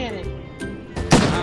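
A cannon thrown in the game Hand Simulator lands with a loud, heavy thud near the end, following quieter shuffling and short knocks, with talk going on throughout.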